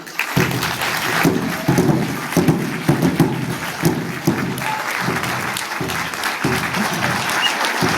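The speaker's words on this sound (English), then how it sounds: "Let's give everyone a round of applause" An audience at a Native American dance showcase applauds the dancers, loud and sustained, with a pulsing drum-like beat beneath the clapping.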